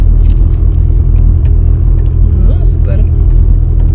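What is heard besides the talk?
car engine struggling while driving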